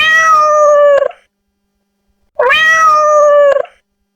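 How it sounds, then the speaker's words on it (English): Two long, drawn-out meows from a cat, each about a second, loud and close with a clear harmonic tone, separated by a short silence. "Look, this is a cat."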